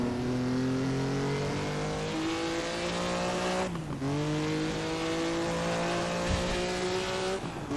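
A classic Grand Prix race car engine revs hard through the gears, a loud sustained whine climbing in pitch, dipping at a shift around midway, then pulling up again close by.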